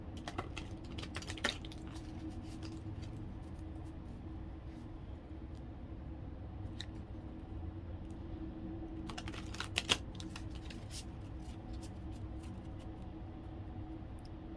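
A deck of playing cards being shuffled close by, a soft run of rapid papery clicks over a steady low background hum, with a sharper burst of riffling near the end.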